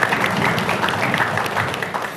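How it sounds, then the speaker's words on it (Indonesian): Applause from a school quiz competition audience of high school students, a continuous, even patter of many hands clapping without talk over it. "Boleh tepuk Sekali tangan lagi dulu. teman-teman tepuk tangannya."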